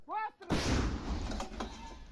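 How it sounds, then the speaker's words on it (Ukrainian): A sharp, heavy artillery cannon blast erupts and rumbles away, following a brief rising whine. "Гармата!"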